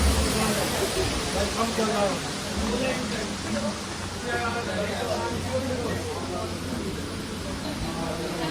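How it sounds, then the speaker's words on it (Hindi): Heavy rain pours outside along Mall Road in Mussoorie, a dense, continuous hiss that holds steady throughout, with indistinct voices mixed in. "बाहर कितनी तेज़ बारिश हो रही है, बहुत तेज़ बारिश हो रही है"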